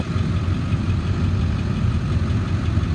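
The 7.3 diesel engine of a 2001 Ford F-350 Super Duty pickup idles with a steady, low rumble, continuous and close by, with no voices or other sounds over it.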